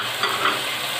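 Potatoes and green chillies being stirred into beef in a pot for Sindhi beef biryani make a brief, even sizzle with a soft scrape of the spoon.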